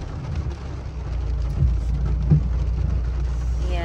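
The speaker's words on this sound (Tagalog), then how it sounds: "Anang lakas-lakas ng ulan." Heavy rain falls in a steady, dense roar close by in the UK, broad and continuous with a low rumble underneath.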